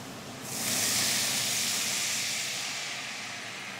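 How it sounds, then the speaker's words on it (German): Red wine hits a hot pan for a sauce and bursts into a loud, close hiss of steam, rising sharply and then slowly tapering into a steady sizzle. "Jetzt mit Rotwein ablöschen."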